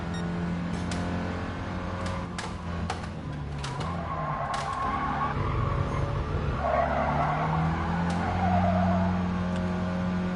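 A 1965 Mini Cooper S in GT Sport revs high with a buzzy engine note, while tyres skid and squeal through corners, the pitch rising and falling with sharp clicks of shifts or bumps throughout.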